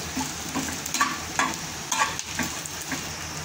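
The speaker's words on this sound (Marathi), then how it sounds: "थोडंसं तेल टाकायचं आणि हे सगळे मसाले ना एकत्र टाकून द्यायचे। त्याला आपल्याला ना हलकंसं भाजून घ्यायचं आहे।" Ground spices roast lightly in a little oil for a chickpea curry, giving a soft, low sizzle broken by intermittent stirring scrapes close by, with no talking.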